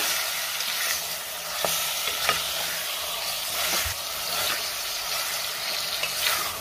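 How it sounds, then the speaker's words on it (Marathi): Mutton stir-fried in oil over a high flame for a spicy Satara-style rassa gives a loud, continuous hiss and crackle, broken by occasional scrapes and knocks of a spatula in the pan. "हाय फ्लेमवरतीच आपल्याला मटण परतून घ्यायचंय"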